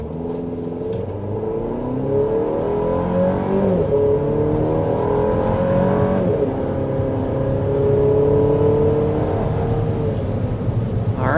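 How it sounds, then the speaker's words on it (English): A 2026 GMC Acadia SUV's engine revs hard and climbs steadily in pitch as it accelerates to 60 mph, shifting gears with brief dips, loud and close throughout. "we need to start with a hard acceleration"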